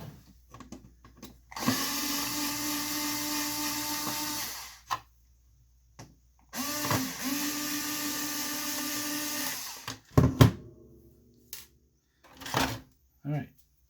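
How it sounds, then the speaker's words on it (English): Power drill backing screws out of the body mounts on a 3 Racing RC car chassis, two sustained whines of a few seconds each separated by pauses, followed by clicks and handling noises. "So I have to take the screws off."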